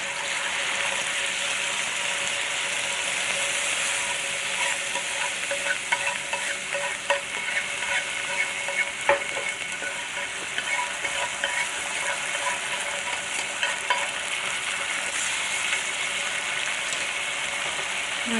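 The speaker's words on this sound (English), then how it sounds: "I call it wash the pan with the rice wine. So I'm just going to wash it a little bit" A pan is deglazed with rice wine while cooking ginger soy sauce fish: a steady, fairly quiet sizzle runs throughout, with scraping and clicking as a utensil stirs it, and no voices.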